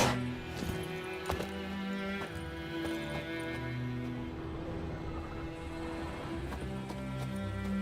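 Geralt's horse Roach galloping in The Witcher 3, a steady rhythmic clip-clop of hooves at close range under a droning musical score, loud and continuous throughout.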